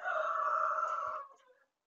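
A hen in a backyard chicken coop gives a single drawn-out, squawking call lasting just over a second, close and fairly loud, then fades away.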